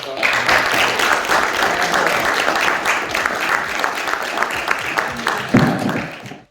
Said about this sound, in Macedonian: ќе сакам сега се еден огромен аплауз да го поканиме Дарко